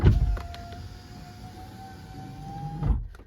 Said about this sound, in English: Tell me if this doesn't sound like a brand new window, like out of the factory from E46 rolling down.